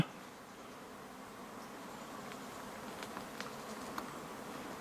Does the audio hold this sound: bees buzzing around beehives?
yes